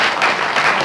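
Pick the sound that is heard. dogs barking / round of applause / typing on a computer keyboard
round of applause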